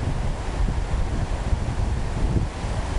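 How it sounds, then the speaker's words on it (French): The Etchemin river at Lévis flows in a steady, broad wash of rushing water, heard close and continuous with rumbling low-end gusts like wind buffeting the microphone, and no talking. "Ici, c'est la rivière Etchemin"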